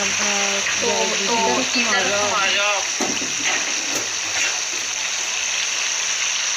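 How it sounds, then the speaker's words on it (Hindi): Onions brown in a pan with cumin, black cardamom, tomato and dried coriander, giving a steady, close frying hiss that runs beneath a woman's speech and then continues alone. "तो इधर हमारा प्याज भी ब्राउन हो रहा है।"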